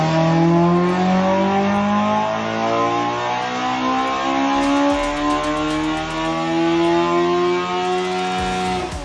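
A race car engine screams up toward 11,000 RPM, a loud, close, sustained howl with rising harmonic sweeps and a brief dip near the middle before climbing again.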